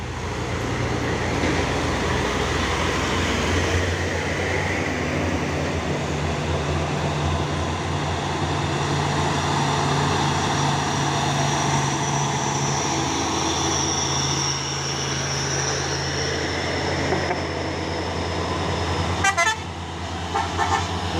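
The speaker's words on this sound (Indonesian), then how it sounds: "Terpantau rame lagi truk-truk yang mau menanjak." Heavy engines droning and straining as a convoy of trucks labors uphill, a long sustained rumble with a horn tooting near the end.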